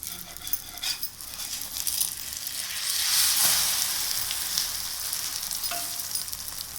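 A capsicum egg omelette fries in a pan with a bright, continuous sizzle that swells midway, plus a few faint taps and scrapes, heard up close with no talking.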